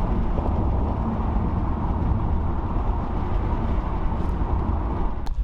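A Monte Carlo daily driver's engine idles steadily after brake, hub and belt work, the belt splashed with power steering fluid, making a continuous loud low rumble with a brief sharp click near the end.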